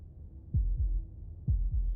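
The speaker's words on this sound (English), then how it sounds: "That was the sound of a heartbeat," Heartbeat effect from the video game Slay the Princess: two deep, muffled double thumps, lub-dub pairs about a second apart, loud and alone over a faint low hum.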